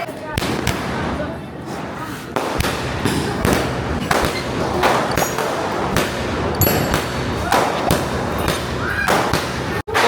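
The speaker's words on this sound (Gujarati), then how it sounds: "હે ફટાકડા જો હવે અહીં ફૂટે ફટાકડા" Diwali firecrackers bursting nearby in a rapid, irregular string of loud cracks and bangs that run through the whole stretch, with people talking between the blasts.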